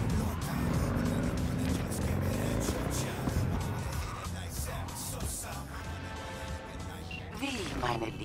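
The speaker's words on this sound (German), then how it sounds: "Ich muss mal mit meinem Auto auch wieder fahren." A car drives in the video game Cyberpunk 2077, its engine rising and falling through revs as it speeds and passes, with tire noise and a busy game mix around it.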